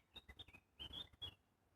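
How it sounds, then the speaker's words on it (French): Small birds sing outdoors in a few short, bright chirps and twittering phrases, faint and fairly close, with nothing else heard around them. "j'espère que vous entendez comme moi des petits oiseaux qui se sont mis à chanter"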